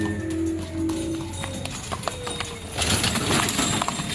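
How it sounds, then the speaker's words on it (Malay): Horse hooves clip-clop in a quick, steady rhythm, fairly close, with a faint voice briefly in the background. "Kuda."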